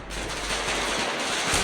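Rapid bursts of automatic video game rifle fire, loud and continuous, with a faint thump near the end.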